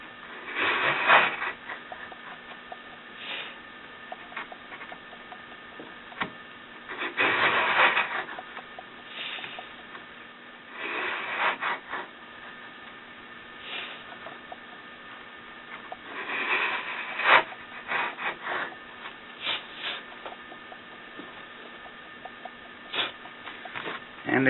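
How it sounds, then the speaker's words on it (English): A fine fret saw cuts a slot into a wooden fingerboard and scratches a pine depth gauge, coming as several quiet bursts of raspy back-and-forth strokes separated by pauses. "when the saw just barely scratches this pine, it tells me that my slot is at the right thickness"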